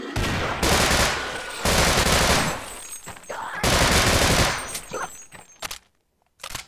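Loud, close bursts of automatic gunfire from a gun in Half-Life Sven Co-op, several sustained rapid volleys separated by brief gaps, tapering into a few scattered shots before falling quiet.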